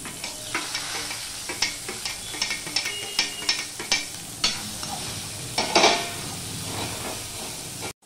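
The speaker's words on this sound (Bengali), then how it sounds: "দেখো বন্ধুরা পেঁয়াজটা লাল লাল হয়ে ভাজা করে নিয়েছি ভালোভাবে।" Onion and garlic frying in a pan with salt and dried chilli, a continuous sizzle broken by a run of quick spatula scrapes and taps, close by and without voices.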